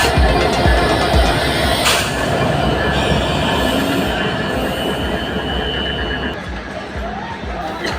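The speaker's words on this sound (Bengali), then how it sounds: "দেখতে পাচ্ছি আমাদের চিত্রা এক্সপ্রেস এই মুহূর্তে চলে এসেছে। এই যে ট্রেনটি আসছে" The Chitra Express passenger train rolls into Joydebpur railway station, loud and close, with a heavy rumble of wagons, clattering wheels and brief squeals, and a busy crowd murmuring underneath.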